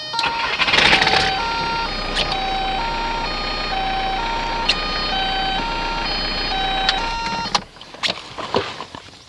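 A VW 1.9-litre TDI turbo diesel is cranked and started, giving a whining starter tone with rising pitch steps over a low engine drone that cuts off near the end, followed by a few scattered clicks.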